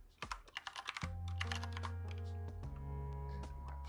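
Keys on a computer keyboard tap in a quick run of close, crisp clicks, then scattered further strokes continue faintly beneath a steady background hum.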